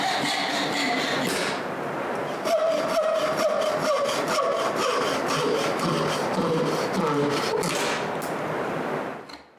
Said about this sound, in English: Now I need to brush and sand the carvings.